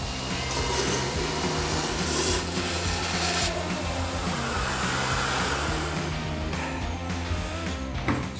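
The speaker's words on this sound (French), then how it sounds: "je vais prendre un autre aspirateur" A Kärcher wet and dry vacuum cleaner sucks up water with a steady, loud, unbroken roar that holds for the whole stretch, close by and with no voices over it.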